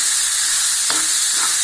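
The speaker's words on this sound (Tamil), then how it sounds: "இப்போ தக்காளி, கருவேப்பிலை போட்டாச்சுங்க. கொஞ்சோண்டு தக்காளி வதங்குறதுக்கு கொஞ்சோண்டு உப்பு போட்டுக்கலாம்." Tomatoes and curry leaves sautéing with a little salt in a pan for a broccoli masala kulambu, a steady close hiss of frying with a couple of brief stirring scrapes.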